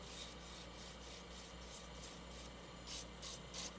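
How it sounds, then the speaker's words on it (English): Light sanding of a turned wooden lidded box's edge with 320-grit sandpaper, a soft steady rasping hiss with a few quick brighter strokes near the end, close and quiet with no talking. "you can go too far really, really fast with sandpaper here"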